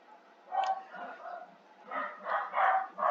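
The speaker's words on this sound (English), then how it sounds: "My dogs are barking." Dogs bark indoors in a series of muffled, mid-pitched yaps and whimpers, coming in irregular bursts that grow denser toward the end, heard faintly at a moderate distance with no voices over them.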